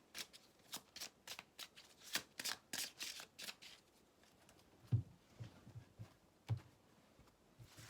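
Tarot cards are shuffled close up in a rapid run of crisp riffling slaps, followed by softer taps and slides as cards are drawn and laid down, quiet and without talk.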